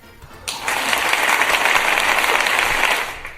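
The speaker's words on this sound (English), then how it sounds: "Not sure if that deserves a clap." A burst of crowd applause sound effect that swells in abruptly, holds as a dense, even wash of many hands clapping for about two and a half seconds, then fades out, with no voices over it.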